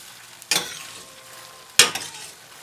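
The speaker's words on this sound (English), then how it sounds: "Turn this again, stir it up" Chicken curry cooking in a pan gets stirred twice, each stroke a short scraping swish over a low, steady sizzle.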